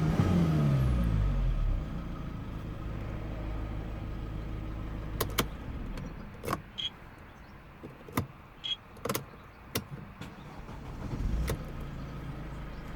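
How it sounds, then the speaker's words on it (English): A Mercedes C220 W204 engine, after repair of a no-power, no-accelerator fault with error 23DB, idles low and then answers a series of short, sharp throttle blips that rise and drop back quickly, heard close with no talk. "So you can see it revs perfectly straight away."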